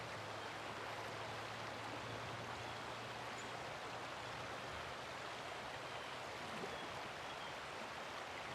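Heavy, high waves of open water churn in a steady, loud, continuous wash of broadband noise, with no voices over it.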